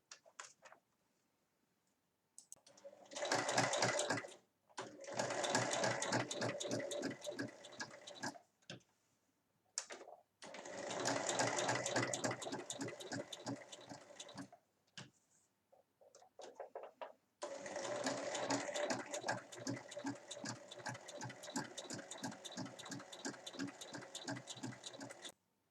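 A sewing machine stitches three sides of a folded fabric pocket in several long runs of rapid, even mechanical ticking, separated by short pauses, close and fairly quiet.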